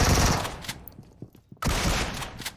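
Loud bursts of rapid gunfire in PUBG Mobile, a short pause with scattered single shots, then another intense volley.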